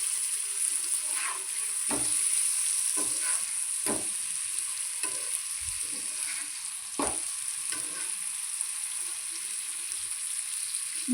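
Fish marinated in vinegar, turmeric and salt fries in a pan, giving a steady close sizzle with occasional louder spits and stirring scrapes, no talking.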